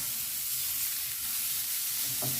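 Onions with a pinch of sugar fry in a pan for a warm eggplant and chicken salad, giving a steady close sizzle with soft scraping stirs, alone and without talk.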